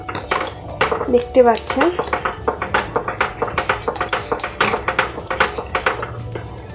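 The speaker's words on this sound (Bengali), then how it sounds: "সেই কার্ডটা এর মধ্যে মিক্স করে দিলাম" A spoon scrapes and clinks against a metal pan while curd is stirred in over a low flame for Kashmiri aloo dum, a quick run of rhythmic taps and scrapes, close and fairly loud, with someone speaking briefly.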